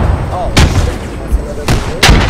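Two sharp broadband blasts from grenades going off in the military shooter Squad, a fairly close burst near the start and another near the end, over a continuous low rumble of battlefield noise.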